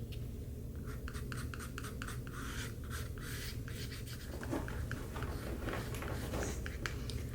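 A palette knife scrapes paint across a small flower pot painting in a rapid series of close, dry, scratchy strokes over a constant low background hum, with no talking.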